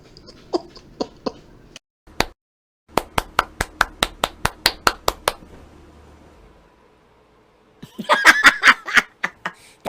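A series of sharp, evenly spaced claps, around a dozen in quick succession after a few scattered ones, followed by a brief burst of snickering laughter.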